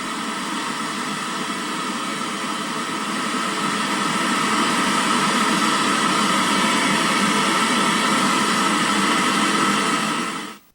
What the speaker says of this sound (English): This is instead the pink noise.